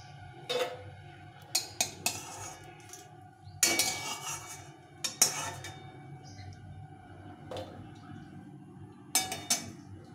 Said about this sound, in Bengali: লঙ্কাগুলো ভাজা হয়ে গেছে, এখন এগুলো প্লেটের মধ্যে উঠিয়ে নেব।